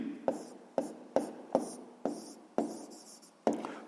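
Handwriting on paper during a sixth-grade maths exercise, a series of about seven short pen strokes in an uneven rhythm, close and quiet, with no talking.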